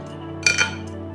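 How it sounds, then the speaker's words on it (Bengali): A utensil clinks and scrapes briefly against a bowl while a thick rice and poppy-seed batter is mixed with water for pumpkin-leaf chal pituli. One short, close burst of metal-on-bowl contact sits over a steady low room hum, with no talking. "এইবার আমি যেটা করব, জলটা দিয়ে ভালো করে ফেটিয়ে নেব।"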